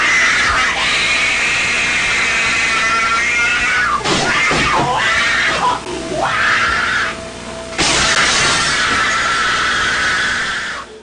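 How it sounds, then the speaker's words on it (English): A man shrieks like a wild animal while tearing apart a children's room, with loud, sustained, piercing howls and squeals that rise and fall, briefly dropping into rougher grunting cries before another long scream. "he is shrieking like a wild animal and destroying the whole room"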